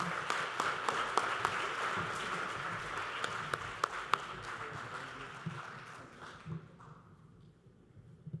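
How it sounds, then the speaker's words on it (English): An audience at an honoree ceremony gives a steady round of applause, dense clapping with a few sharp louder claps standing out, holding for about six seconds before thinning and fading away. "Let's give her another round of applause."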